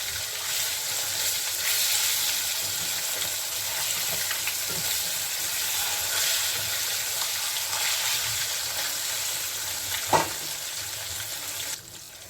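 Pieces of katla fish sizzle steadily in hot oil in a pan, with a continuous close frying hiss and a few soft clinks as the fish is turned.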